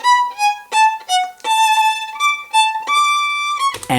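A single violin plays a short tune of clear sustained notes in a moderate rhythm, close and solo, ending abruptly with a brief noise.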